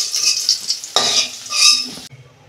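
Potatoes fry in oil for a fish curry with potato and eggplant, hissing loudly under close, scraping stirring strokes before the sizzle suddenly drops away near the end.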